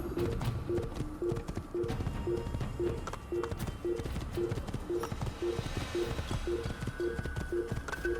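Horse hooves clip-clop at a steady, regular trot in the Assassin's Creed game set in Damascus, a continuous rhythmic patter at moderate loudness over a low ambient bed, with no talk.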